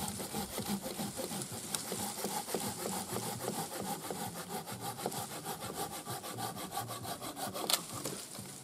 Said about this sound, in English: so I cut a bit of firewood.